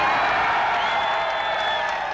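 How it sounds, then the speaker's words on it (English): A large crowd at the Hungarian border applauds and cheers the Hungarian foreign minister, a steady dense roar of clapping and voices that stays loud and even throughout. "As the applause died down"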